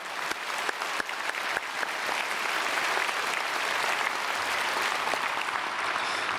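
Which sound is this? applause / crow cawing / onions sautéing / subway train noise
applause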